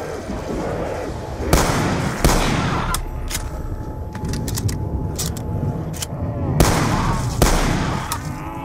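Gunfire from the Black Ops 2 Zombies video game comes in loud, close bursts of rapid shots separated by short pauses, with voices over the action.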